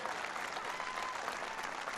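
Crowd at a Trans-Pacific Partnership event with Obama applauding congressional representatives Earl Blumenauer and Suzanne Bonamici, a continuous dense roar of clapping heard from a distance.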